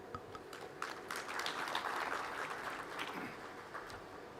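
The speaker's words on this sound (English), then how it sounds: "A round of applause as they take their seats" Audience applause at a Kenya School of Government centenary ceremony as participants take their seats, a moderate, steady patter of clapping sustained through the moment with a slight swell in the middle.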